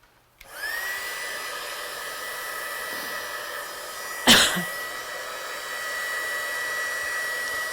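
A heat gun roars on after a brief silence and blows steadily and loudly at embossing powder on a stamped card, a short cough-like burst cutting in midway while the steady whine continues to the end.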